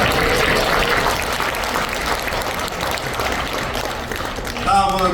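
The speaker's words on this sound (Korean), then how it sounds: "여러분 두 분을 위해서 큰 박수 부탁드립니다." Big round of audience applause for two guests at a talk concert marking the 63rd anniversary of May 16, dense and continuous clapping throughout, with a voice briefly emerging near the end.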